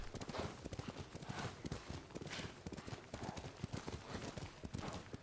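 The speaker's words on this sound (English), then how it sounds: "This horse is slow." Rhythmic hoofbeats of a horse galloping in Ghost of Tsushima, steady and close, with a faint background hum and no talking.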